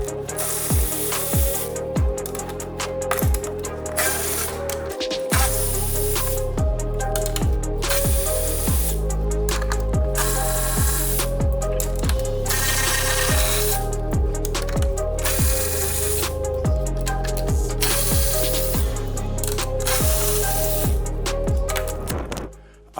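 Rapid clicking of a ratchet spinning bolts out of the underbody plate of a Land Rover Discovery 5, with repeated bursts of close mechanical ratcheting sweeping up and down in pitch, continuous and loud.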